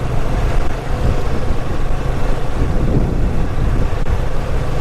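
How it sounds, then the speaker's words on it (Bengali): Cool wind roars across a motorbike rider's microphone on a road trip from Dhaka to Laxmipur, a loud, steady buffeting rumble that never lets up. "ঠান্ডা ঠান্ডা বাতাস আছে"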